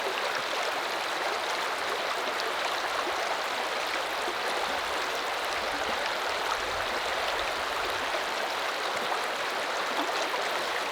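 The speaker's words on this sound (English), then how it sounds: "The sound of the rushing water here is like the white noise of a radio" A mountain stream and waterfall spilling out of a cave in remote Australian alpine wilderness, giving a steady, close, hissing rush of water that holds at an even level throughout with no voices.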